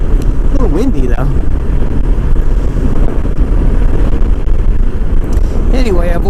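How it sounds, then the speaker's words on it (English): Strong wind buffets the microphone in a constant low roar while a person talks now and then over it, outdoors at a trike gathering in Texas. "A little windy though."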